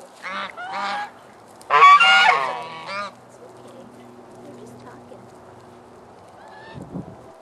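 Several loud goose honks in quick bursts, close by, followed by quieter ambient noise and a faint low rumble near the end.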